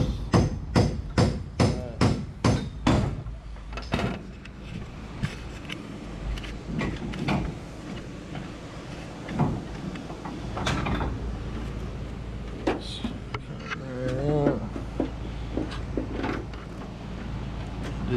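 Tekton tin snips cut sheet metal on a wrecked Honda Civic, a quick series of about eight sharp metallic snips at the start, followed by scattered clicks, rattles and handling noises at close range.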